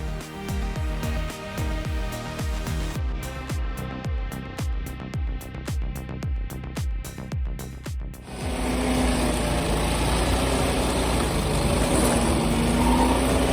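An 85 HP stump grinder with carbide teeth chews into a hardwood stump: a rhythmic, pulsing engine chug gives way to a loud, continuous grinding roar that persists to the end.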